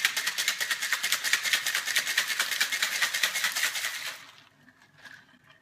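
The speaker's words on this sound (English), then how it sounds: "put the lid on and shake that baby" A cocktail shaker holding a lemon and whiskey drink with ice is shaken hard in a fast, steady rattling rhythm for about four seconds, then stops abruptly, leaving faint clinks.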